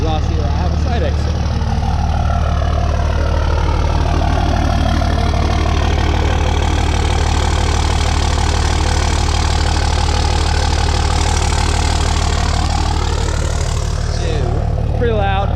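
A 3rd gen Dodge Ram Cummins diesel truck with a side-exit exhaust and no hood stack idles loudly on a cold start, a steady deep rumble close by that varies slightly toward the end.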